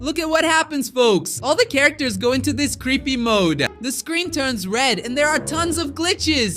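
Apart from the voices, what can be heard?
No everyday noise stands out behind the speech.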